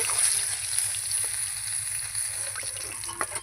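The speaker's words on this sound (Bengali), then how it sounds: "আমার মাছগুলো ভাজা হয়ে গেছে আমি এবার তুলে নেব" Tengra fish fry in oil with a soft, steady sizzle at moderate distance, with a few faint clicks near the end.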